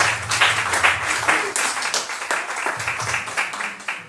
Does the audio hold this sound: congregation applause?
yes